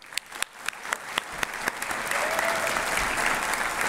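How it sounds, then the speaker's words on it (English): At a high school convocation, applause starts with a few separate claps and quickly swells into loud, full clapping from the whole audience. "I would like to give them one last round of applause for Ryan and Riley"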